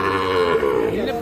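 A Sahiwal bull calf at a cattle market gives one low, drawn-out moo, close and fairly loud, lasting about a second.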